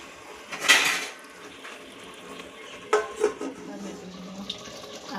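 A metal plate clanks down onto a cooking pot of home-style handi chicken, one sharp clatter followed by a couple of lighter knocks and scrapes a couple of seconds later, over quiet kitchen background.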